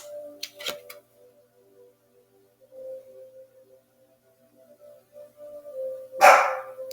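A pet dog barks in short bursts indoors, a couple of sharp barks near the start and a louder one near the end, with quiet gaps and faint tonal hum between.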